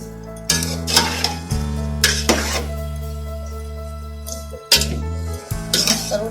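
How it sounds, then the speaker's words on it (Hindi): Vegetables for vegetable fried rice being mashed in a pan, with repeated scraping and clinking of a utensil against metal over a steady low hum, loud and close, no talk. "इन सब्जियों को अच्छी तरह मैश करूंगी मैं"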